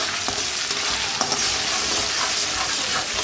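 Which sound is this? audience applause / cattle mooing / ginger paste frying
ginger paste frying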